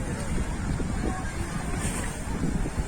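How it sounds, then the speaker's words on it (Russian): A motorboat sets off at sea, a low engine rumble heard from a distance beneath heavy wind buffeting the microphone. "Вон катер пошел."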